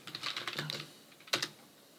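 Fingers tap out a command on a computer keyboard in a quick run of close, light clicks, then a brief pause and two final harder keystrokes.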